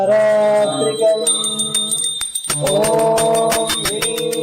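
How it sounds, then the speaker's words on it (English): A hand bell rung during an Arati offering to a guru's padukas, ringing steadily with many bright overtones, pausing briefly near the middle before resuming, clanging on throughout under low sustained tones. "please ring the bell as you do so."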